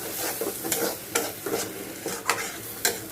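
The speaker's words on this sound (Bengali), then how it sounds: "মগজ ভুনা যত ভাজা হবে তত টেস্ট হবে।" Goat brain curry (mogoj bhuna) is fried down in oil, a spatula scraping and stirring in regular close strokes over a quiet steady sizzle; no talk.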